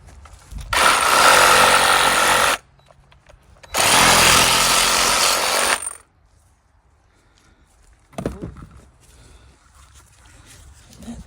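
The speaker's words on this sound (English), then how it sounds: "Next thing we're going to do is whoop that off with the sawzall." Reciprocating saw (Sawzall) splitting a hog carcass down the middle during butchering, two loud sustained buzzing cuts of about two seconds each with a pause between, then quieter handling noises.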